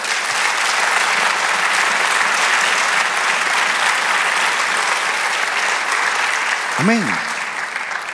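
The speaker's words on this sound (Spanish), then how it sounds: "Denle un aplauso al Señor." Church congregation applauding during a Spanish-language sermon, broad sustained clapping from a full room that holds steady, then tapers near the end as a voice calls out briefly.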